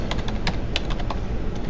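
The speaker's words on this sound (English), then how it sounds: "Put Martin's email here." Email address typed on a computer keyboard, a quick run of close, crisp key clicks over a low background hum.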